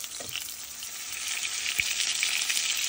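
Tuna steaks fry in a pan with a steady crackling sizzle, close and moderately loud, with a faint scrape of turning partway through and no voices.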